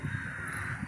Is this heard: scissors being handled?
no